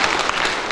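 Continued audience clapping at a student economics debate, a short dense wash of applause without distinct individual claps.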